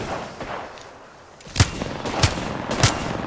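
Gunfire in the Apex Legends video game: a few faint distant shots, then three loud sharp cracks spaced about half a second apart.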